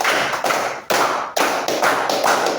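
A classroom of students claps a counted rhythm pattern, with loud, sharp bursts of group clapping arriving in regular groups of one, two and three, close and dominant with almost no talking.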